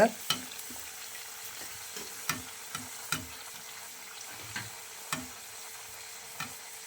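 Wheat flour buns frying in oil in a pan, a soft steady sizzle with occasional sharp pops and crackles spread throughout.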